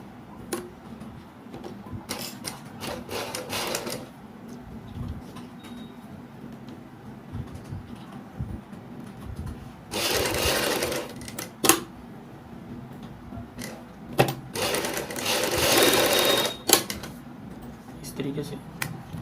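A sewing machine stitches a patch onto a kurti neck in short bursts of rapid clatter separated by pauses, with longer runs near the end and a voice talking throughout.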